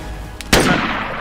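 A single sharp gunshot in the video game DayZ, a loud close crack followed by a brief echoing tail, with a fainter pop just before it.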